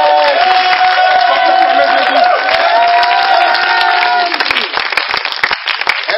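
A church congregation applauds and cheers together in sustained loud clapping with shouts and voices, which thins out into scattered claps toward the end.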